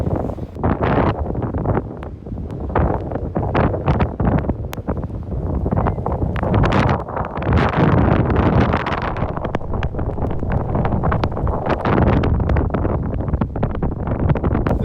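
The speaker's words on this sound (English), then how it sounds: "I can't believe there's still like a continuous blizzard going on" Strong blizzard wind roars continuously through a snowstorm in Edinburgh, buffeting the microphone loudly and unevenly for the whole stretch, with gusty surges and no voices.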